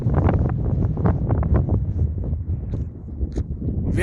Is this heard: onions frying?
no